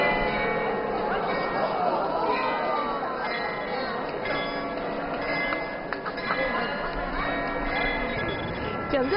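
Mechanical clock tower bells chime in a long, continuous ringing sequence with overlapping tones, heard from a distance over a murmuring crowd in the square.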